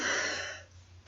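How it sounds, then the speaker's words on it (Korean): A single throat-clearing cough from a woman with vocal cord nodules, a breathy burst up close that fades out over about a second, heard alone. "제가 기침 좀 할게요"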